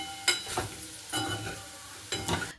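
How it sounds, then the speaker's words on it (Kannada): Potatoes frying over a high flame for a crisp aloo fry, with a steady sizzle broken by three bursts of stirring in the pan, close and fairly loud, no voices. "ಈ ಥರ ಚೆನ್ನಾಗಿ ಸ್ವಲ್ಪ ಹೈ ಫ್ಲೇಮಲ್ಲಿ ಹುರಿದುಬಿಟ್ರೆ ಕ್ರಿಸ್ಪಿಯಾಗಿರೋ ಆಲೂ ಫ್ರೈ ರೆಡಿಯಾಗುತ್ತೆ"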